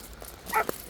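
A dog gives a brief bark or yip on a beach walk at Petone Beach, a quick, fairly faint sound heard once over steady outdoor background noise.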